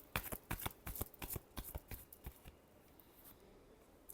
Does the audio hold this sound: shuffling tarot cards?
yes